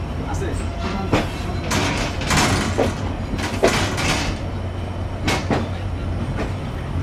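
The Kapotaksha Express, a broad-gauge train, rolls slowly through Daulatpur station without stopping, giving a loud continuous rumble with rattling, clanking and bursts of hiss, heard close from on board.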